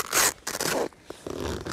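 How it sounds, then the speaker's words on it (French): Two big zippers on a travel-style backpack are pulled open: a few quick, close raspy zips in short bursts, with no voices. "avec 2 grandes fermetures éclair"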